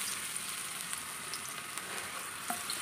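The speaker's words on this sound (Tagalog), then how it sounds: "Una nating igisa ay garlic." Garlic sautés in hot oil in a kawali, giving a steady, bright sizzle with faint occasional pops and a small stir near the end.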